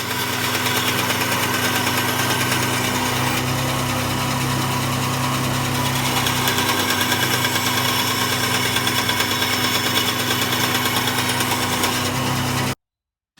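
Steady wood-cutting drone of a bandsaw running through tenon shoulders in the workshop, loud and continuous with a constant motor hum, no voices, cutting off abruptly near the end.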